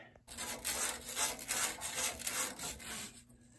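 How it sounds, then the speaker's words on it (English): Fine 320-grit sandpaper rubs a copper pipe end to clean off burrs before fitting it to a gas water heater, producing rhythmic close-up rasping strokes, about eight in quick succession. "I'm gonna run some cleanser and sandpaper, make sure there's no burrs"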